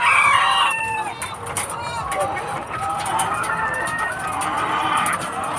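Chickens cluck and cackle loudly and close by in a backyard hen coop after a hen lays an egg, with a possible crow among the calls, while people talk over them throughout.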